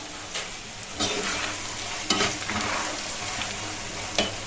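Crushed garlic paste sizzling in hot oil while making poha tadka, a steady crackling fry broken by a few louder stirring scrapes of the pan, close and alone with no voices.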